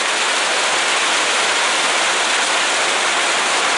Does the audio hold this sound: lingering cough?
no